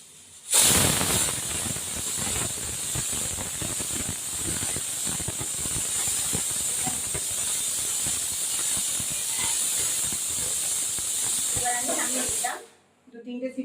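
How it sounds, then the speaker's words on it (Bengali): A pressure cooker of goat liver curry lets off a long, loud, continuous steam hiss that starts abruptly and cuts off near the end, followed by faint clattering. "এবার এই ঢাকা দিলাম তারপর সিটি মারবে"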